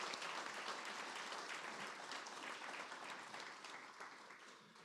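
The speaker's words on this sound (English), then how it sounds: "So please, a round of applause for Chief Reyes and his staff." At a State of the City address, an audience applauds Chief Reyes and his fire department staff with steady, dense clapping that fades slightly toward the end.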